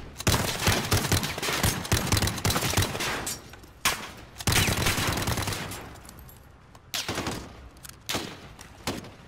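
Rapid bursts of gunfire in the video game Call of Duty: Modern Warfare crackle in long volleys, some sharp single shots between them, loud and close, with brief pauses.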